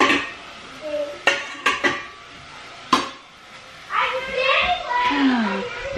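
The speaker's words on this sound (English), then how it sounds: "let's get this frying pan." Metal pan clanks and clatters a few times against other cookware, with sharp knocks followed by a voice talking nearby.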